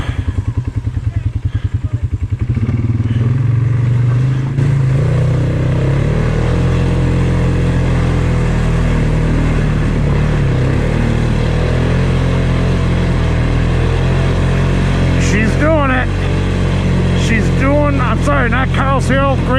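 A Polaris Sportsman 570 SP ATV engine drones steadily as it climbs a hill on a wooded trail, loud and close with shifting revs, while a voice talks over it.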